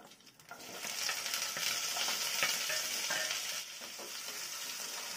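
Garlic, ginger and onion sizzle and fry in hot oil with cumin, a steady crackling hiss that stays fairly quiet but continuous, with a few stirring scrapes.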